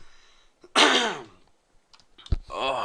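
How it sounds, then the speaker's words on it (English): A single harsh cough bursts out close by, followed by a brief throat-clearing sound and a short breathy vocal noise. "Hold on, got a cough."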